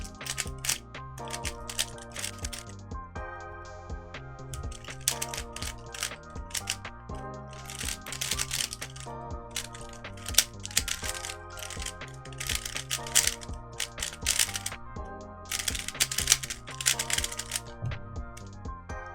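A magnetized Rubik's brand cube clicks and clacks as its layers are turned during solves, with dense, irregular bursts of sharp close-up clicks that continue steadily for the whole stretch.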